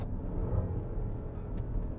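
Maserati Levante Trofeo 2021 SUV engine droning steadily from inside the cabin while driving on a road, a continuous low rumble at moderate level with no talking.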